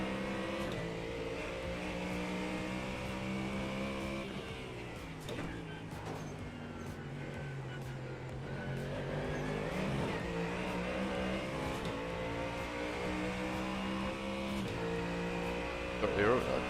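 Race car in a racing video game on the Nordschleife, engine note rising and falling through revs and gear changes, a continuous harmonic whine heard alongside a voice talking.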